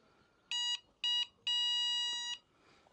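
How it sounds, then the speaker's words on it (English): A horn built into an e-bike's light sounds three electronic beeps, two short bursts followed by a longer sustained tone, loud and bright over faint background noise. "the other one, which is where the horn is built into the light"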